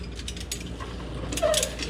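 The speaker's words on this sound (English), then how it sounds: "I'm going to get the old torque stick out here in just a second. Get this tightened up" An impact wrench fitted with a torque stick tightens a rear shock bolt on a 2014 Jeep Wrangler JK, a short close burst of ratcheting mechanical rattle and whirring.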